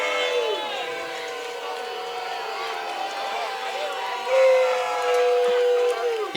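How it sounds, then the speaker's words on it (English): Fans in the stands at a high school football game between RHHS and Bradwell Institute boo, a sustained, wavering drone of many voices that swells near the end, with a commentator talking over it. "You can hear the fans booing right now."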